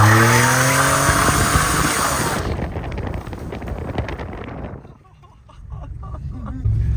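A supercharged Chevrolet Monte Carlo doing a burnout in a shop, engine roaring loud with a howling tire squeal that then fades into rough scrubbing noise before a brief lull and a fresh surge at the end.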